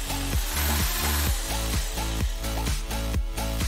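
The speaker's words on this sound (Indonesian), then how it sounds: "Ambil tuna kalengan dan buka tutupnya dengan bor listrik" A loud power drill whines and grinds against the metal lid of a tin can in repeated rhythmic pulses, revving up and down several times.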